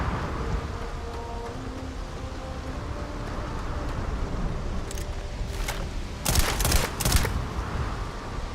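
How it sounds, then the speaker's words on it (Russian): A shotgun firing buckshot in Starfield, heard as a few sharp blasts late in the clip over steady windy, humming ambient noise, with fainter pops just before. "все равно дробь стреляет"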